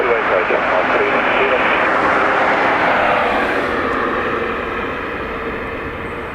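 Airliner EI356 taking off from runway 28 right at Dublin Airport, a broad roaring engine rush that holds steady and then slowly fades as it pulls away.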